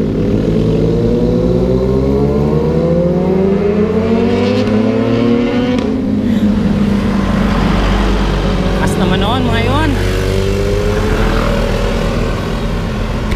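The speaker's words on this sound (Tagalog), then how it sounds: "Ganda ng mga tunog ng motor guys." Motorcycle engines on a road during a solo ride around the Laguna Loop, several passing and revving with rising and falling pitch, loud and close, with a voice briefly audible.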